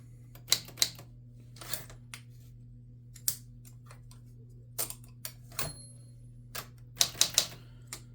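A 1940s Smith Corona Sterling 4S manual typewriter clacks near and crisp, with a dozen scattered key strikes and mechanical snaps of the margin release over a steady low electrical hum.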